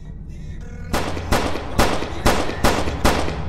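Six sharp pistol gunshots in a video game crack out in a loose rhythm over a low, steady background hum, each one loud and close with a short ringing tail.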